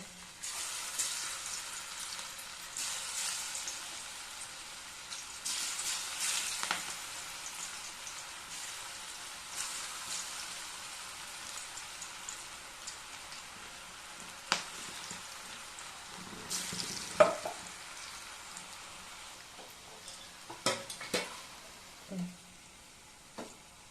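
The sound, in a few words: cauliflower pieces for gobi 65 deep frying in oil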